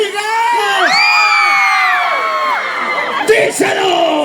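Women in a live concert crowd at a Latin music show shout and cheer together in long rising and falling yells, loud and close, with scattered whoops toward the end.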